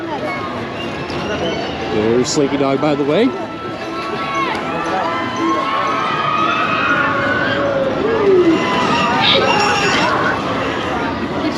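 Dense crowd hubbub at Disney's Hollywood Studios near the Slinky Dog ride during holiday time, with constant murmur and a voice talking close over it.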